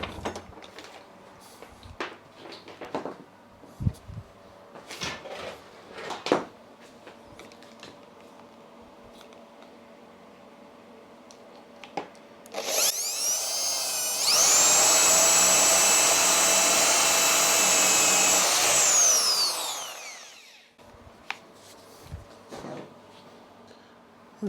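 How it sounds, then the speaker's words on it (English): Power drill boring a hole in a countryside workshop, starting with a rising whir and holding a loud, steady high-pitched spin for about six seconds before winding down, with scattered clatter and handling noises before and after. "Just drill a hole."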